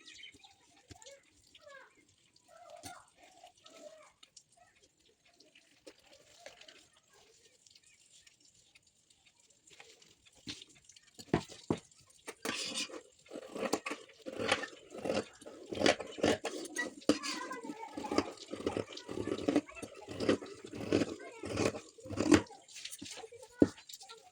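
Scissors snip through blouse fabric while cutting the back piece, a run of close, crisp repeated cuts gathering pace after a quiet stretch of faint handling.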